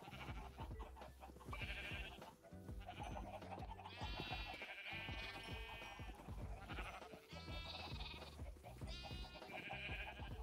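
Sheep in a hardcore Minecraft world bleat repeatedly, several overlapping calls at moderate distance over a constant game backdrop, with no talking.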